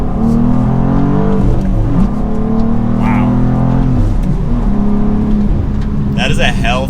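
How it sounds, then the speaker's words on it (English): A 2023 BMW M2 with a manual gearbox revs hard while accelerating, its engine note climbing steadily and loud from inside the car, with a brief exclamation from a person near the end. "That is a healthy motor. This thing gets up to some speed."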